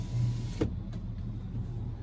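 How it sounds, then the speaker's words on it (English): Power sliding rear window of a 2024 Chevrolet Silverado 2500HD LTZ, a soft electric motor hum inside the cab with a brief click partway through, quiet and close, no talk. "there is the power sliding rear window"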